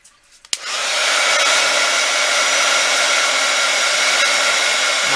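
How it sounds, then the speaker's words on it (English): A handheld heat tool blows hot air to dry paint on a mixed-media paper clay Easter egg, switching on abruptly and then holding a loud, steady, whooshing hiss with no talking. "I'm gonna dry this with my heat tool"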